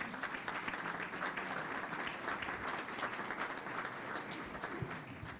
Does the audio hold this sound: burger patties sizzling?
no